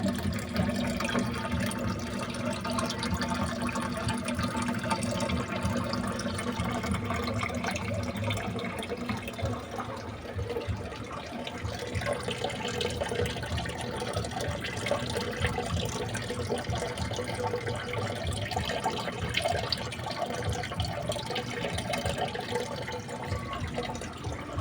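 Water pouring steadily into a container holding live crayfish, a continuous close splashing and gurgling rush that holds for the whole stretch.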